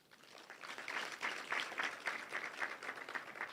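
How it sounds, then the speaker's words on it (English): Applause from an audience at a Kenya National Examinations Council meeting: steady clapping from many hands that swells after a quiet start and stays fairly even, slightly distant and faint. "We can do another round of applause."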